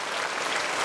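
Applause from a concert audience, a dense, steady wash of clapping hands that fills the moment evenly and loudly, with no voices standing out above it.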